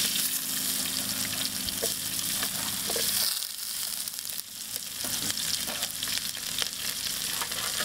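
Green chillies fry in hot oil in a village kitchen, cooking for a goat trotters soup: a steady, dense sizzle runs throughout, dipping briefly midway as they are moved, with no talking.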